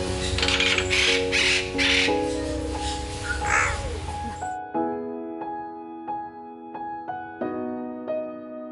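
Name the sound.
birds calling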